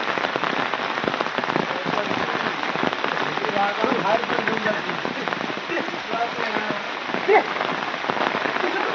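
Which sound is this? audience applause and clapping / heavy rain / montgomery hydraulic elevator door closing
heavy rain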